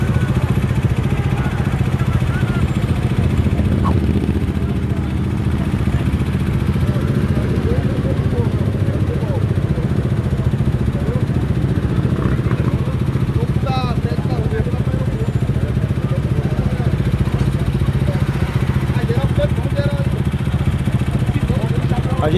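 A constant low rumble of over 100 motorcycle engines idling and revving at a couriers' street protest over fuel prices, loud and continuous, with voices mixed in the background.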